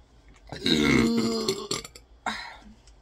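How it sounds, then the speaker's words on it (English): A single long, loud, close burp from someone eating KFC, lasting about a second and a half and trailing into a shorter second belch. "Those are for all the people that say I'm gross when I burp."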